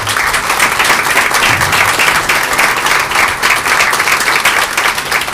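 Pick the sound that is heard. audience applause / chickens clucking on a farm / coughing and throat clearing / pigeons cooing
audience applause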